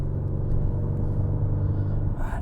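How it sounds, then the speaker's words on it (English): A 450bhp Audi RS5, completely unmodified, runs with a steady, deep engine rumble that holds an even drone close by, with no voices over it. "That engine sounds gorgeous."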